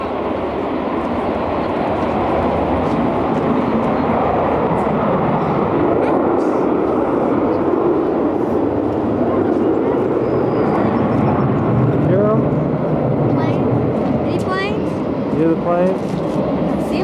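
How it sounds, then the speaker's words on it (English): Airplanes fly overhead near Orlando, a broad, loud, continuous engine roar that swells and fades slowly, with people talking faintly beneath it. "You hear the airplanes?"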